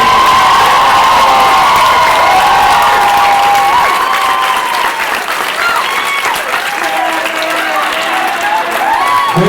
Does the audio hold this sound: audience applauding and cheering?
yes